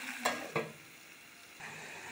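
Bitter gourd frying in oil, a soft sizzle under a few scraping stirs, two near the start and another toward the end, with no talking.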